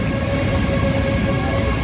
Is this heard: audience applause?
no